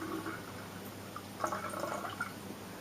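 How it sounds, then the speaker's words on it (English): Kombucha mother liquid poured into a jar at a farm, a faint, steady wet trickle with small drips and splashes over soft background hiss. "Then you pour your mother liquid in"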